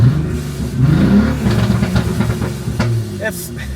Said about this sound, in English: But let me give you a little rev.